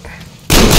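A sudden loud burst of gunfire in Metro Exodus breaks in after a quieter stretch of low room noise and holds at full volume to the end.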